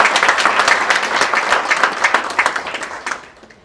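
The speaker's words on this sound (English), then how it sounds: "Come on, you can give him a better hand of applause." An audience at the P.A. Awards 2019 ceremony applauds Pastor Jenga, with dense, close clapping from many hands that stays loud and then tapers off in the final second.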